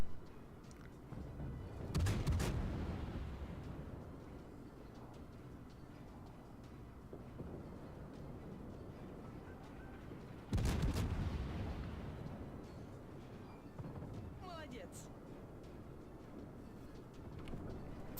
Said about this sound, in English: to get these good salvos, you need to aim well